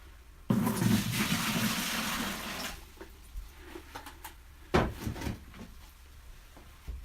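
Water pouring into a bucket while filling it for a grow box setup, a steady broadband rush for about two seconds that stops, followed by softer handling clunks and a sharp knock.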